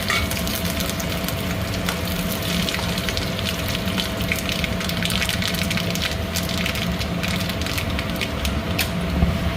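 Mustard seeds, dried red chilli and curry leaves sizzle and crackle in hot oil on a kitchen stove, a loud, dense, continuous spitting close by for the whole stretch.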